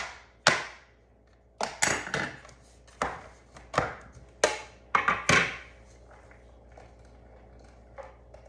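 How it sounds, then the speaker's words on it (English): Onions are chopped with a plunger-style chopper: about a dozen sharp, close thunks in uneven bursts, then quiet. "But it speeds up chopping onions."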